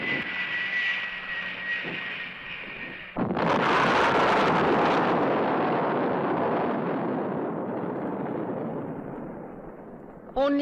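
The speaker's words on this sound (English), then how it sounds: "Only a nuclear bomb could cause a blast like that" A huge explosion blast from a 1960s monster film erupts suddenly after a droning aircraft engine hum, a loud broad roar that rolls on and slowly decays over several seconds.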